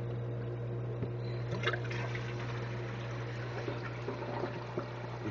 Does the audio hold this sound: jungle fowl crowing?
no